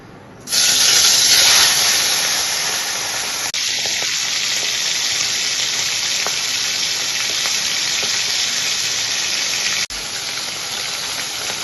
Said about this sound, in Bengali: এই যে মাছগুলো ভালো করে ভেজে নিলাম।